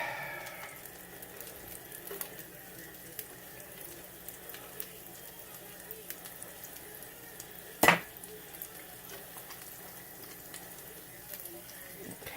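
Garlic sizzles in hot oil in a pan for shrimp scampi, a soft, steady frying hiss with one sharp utensil clank partway through.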